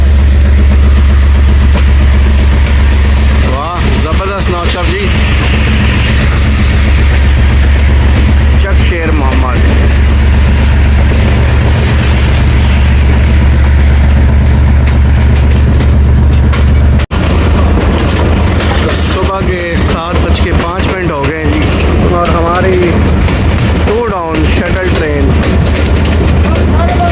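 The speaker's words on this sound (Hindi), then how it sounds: "दोबारा से डिपार्ट कर रही है चक शेर मोहम्मद से 2 डाउन शटल ट्रेन।" The 2 Down Shuttle train departs Chak Sher Mohammad station on the Lala Musa to Sargodha line, with a loud, steady, close diesel engine rumble that runs throughout while people talk over it.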